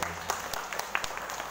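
Audience applause for Dr. Pranoto and Pak Leo at a school gathering, brief and fairly light, with scattered distinct claps over a soft background.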